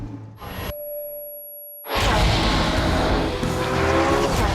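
Porsche 918 Spyder in race mode on a racetrack: after a quiet lull, the car bursts into a loud, sustained roar of engine and tyre noise that fills the rest of the stretch close by.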